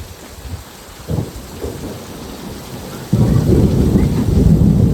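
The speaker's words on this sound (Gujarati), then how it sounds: "તમે કડાકા સાંભળો" Thunder rumbles and cracks through a heavy rain downpour over farm fields, a loud burst near one second and a stronger sustained roll from about three seconds on, with steady rain hiss throughout and no talking.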